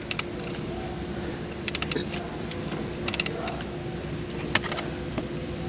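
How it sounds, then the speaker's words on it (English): A Genesis G70 engine's drive belt and pulleys are turned slowly by hand, giving a few scattered light ticks and clicks over a steady low mechanical background hum, close by. "I'm just gonna turn it a few times, make sure my belt's still staying on those pulleys."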